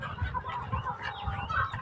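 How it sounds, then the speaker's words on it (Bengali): Chickens cluck on a farm with many hens and cows, a steady low chorus of clucking and fowl calls that stays fairly close and continuous throughout. "মুরগি আবার আছে, গরু আছে, অনেক মুরগি আছে।"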